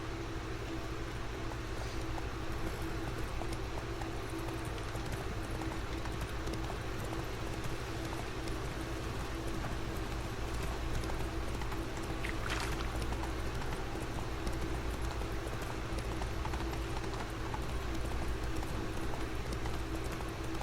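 Roach the horse's hoofbeats in The Witcher 3 make a steady clip-clop over a constant game backdrop of water and ambient hum, continuous and moderately loud throughout.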